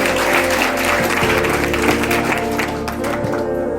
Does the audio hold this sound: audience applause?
yes